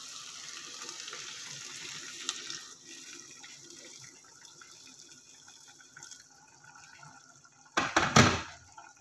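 Liquid is poured into a cooking pot of chicken wing sinigang, a faint trickling splash that runs quietly before ending in a short louder burst of splashing near the close, with no talk.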